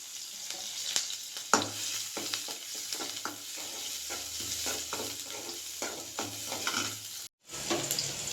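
Onions, green chillies and curry leaves frying in hot oil with a little fenugreek for an egg curry: a steady close sizzle with repeated stirring scrapes, no voices.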